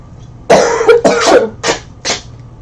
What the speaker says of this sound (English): So I apologize for hacking here on camera.